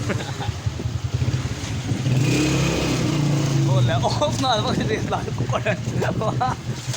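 A motorcycle engine drones and revs nearby, rising and falling steadily, with voices talking over it.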